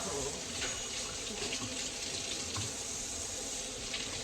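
Warm tap water runs steadily into a sink in a home, a constant hissing splash that holds even and unbroken throughout.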